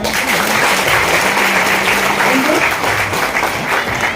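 An indoor audience at a business gathering breaks into loud, enthusiastic clapping that continues steadily, with a voice speaking faintly underneath.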